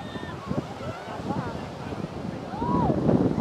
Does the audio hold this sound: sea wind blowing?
yes